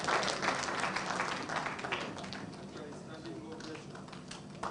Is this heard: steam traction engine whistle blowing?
no